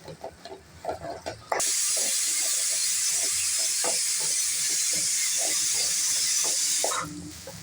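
Sliced drumsticks and potatoes sauté in a pan for mutton murungakkai kuzhambu, a loud steady sizzling hiss that begins abruptly after a few soft clinks and fades near the end.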